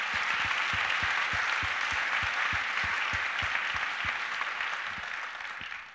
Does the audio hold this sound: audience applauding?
yes